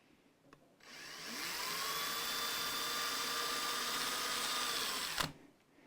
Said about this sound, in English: try and do the drill, the drilling for the grub screws